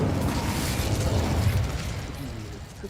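The Incendio fire spell bursts out in Hogwarts Legacy as a loud, dense roaring whoosh that holds steady for about three seconds and then begins to fade.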